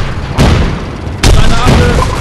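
In the World War II game Road To Valor, two loud booming grenade blasts land about a second apart, each followed by a rumbling tail, with a game voice in the mix.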